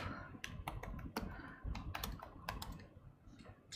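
Irregular, quick keystrokes clack on a computer keyboard in a quiet room, faint and close, with no one speaking.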